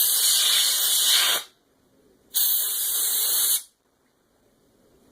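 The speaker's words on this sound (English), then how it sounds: "And I've also got some aerosol here." An aerosol can sprays into a Nintendo game cartridge being cleaned of debris, giving two close, loud hissing bursts of about a second and a half each, separated by a short pause.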